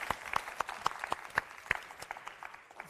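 Scattered applause from a modest audience for a pitch team at a startup showcase evening, a few dozen distinct claps of varying loudness, fairly quiet and fading toward the end.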